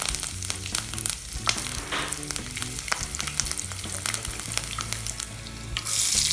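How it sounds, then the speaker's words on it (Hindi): Slit green chilies fry in hot mustard oil with a steady crackling sizzle, close and continuous, while background music plays underneath. "हरी मिर्च को चीरा लगाकर तेल में ऐड कर देते हैं।"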